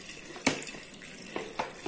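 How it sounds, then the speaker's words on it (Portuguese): Water running from a tap as hands are wetted under it at a sink, a faint, steady splashing flow with a few soft, brief spatters, no talk. "Vou abrir a torneira, vou molhar as mãos com cuidado para não encostar na pia."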